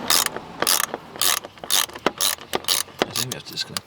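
A ratchet wrench clicks in repeated bursts while breaking a bolt loose on a 2009 Mazda 3 during a cold air intake install, about eight loud, close ratcheting strokes in quick succession.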